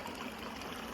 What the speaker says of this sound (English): I found some nice clear running water here, so I'm going to get a litre